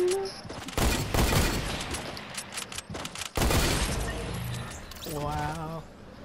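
Loud bursts of gunfire and impacts in Fortnite, dense and chaotic with short breaks, while a player talks over the shooting.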